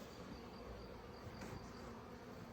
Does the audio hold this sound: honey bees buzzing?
yes